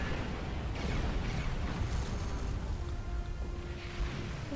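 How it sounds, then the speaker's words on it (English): Torpedo spread launched in the Star Trek Online space combat game, a dense, rumbling run of booming bursts sustained throughout at steady loudness, with no voices. "torpedo spread is always good"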